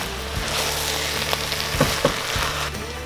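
Spinach and collard greens sizzle and fry steadily in a pan, a continuous close hiss with a few soft stirring clicks and scrapes.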